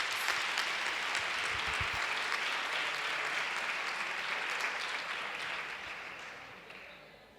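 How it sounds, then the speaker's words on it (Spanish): Steady applause from a conference audience honours a sign language interpreter, a broad wash of clapping that holds level and then tapers off toward the end. "un fuerte aplauso para ella también"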